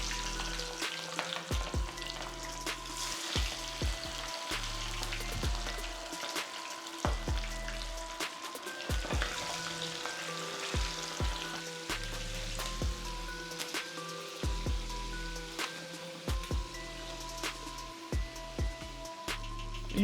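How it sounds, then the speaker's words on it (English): Chicken wings hiss and crackle steadily as they fry in a pan of hot oil for lemon pepper wings, with a dense, continuous sizzle and scattered sharp pops close by and no voices. "All we want to do is take our wings and add them to the oil."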